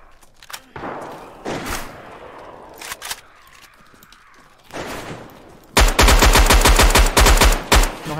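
Rapid bursts of automatic weapon fire in the survival game DayZ, with scattered single shots early on, then a loud sustained volley of closely spaced shots near the end.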